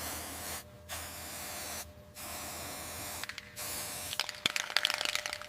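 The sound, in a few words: spraying rust converter onto Ford Bronco metal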